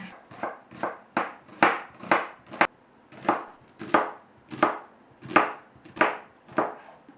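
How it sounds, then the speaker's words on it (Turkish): A knife julienne-cuts vegetables, including carrot, on a board in a steady, quick rhythm of about a dozen crisp strokes, close and clear with no talking. "Şimdi bütün sebzelerimi jülyen doğrayacağım."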